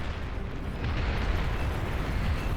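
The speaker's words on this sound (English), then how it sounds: "it's literally launching a massive salvo of I don't know how many rockets" A massive salvo of big catapult rockets exploding in the strategy game Beyond All Reason, a dense, continuous roaring rumble of overlapping blasts at steady loudness throughout, with no talk.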